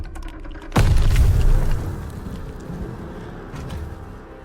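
A grenade goes off in Call of Duty: Vanguard on PS4 Pro: one sudden, loud, close boom with a heavy low rumble that decays over about a second. Quieter battlefield ambience carries on after it.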